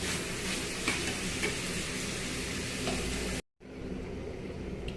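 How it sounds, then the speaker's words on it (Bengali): Hot oil sizzles in a kadai as a green chili and cumin seeds go in for a pumpkin tempering: a loud, steady frying hiss that cuts out briefly near the end, then resumes. "এদিকে আমি কুমড়োটাকে ফোড়ন করার জন্য কড়াইয়ে তেল গরম করে দিয়েছি, আর একটা লঙ্কা দিলাম আর দিয়ে দিলাম একটু জিরে"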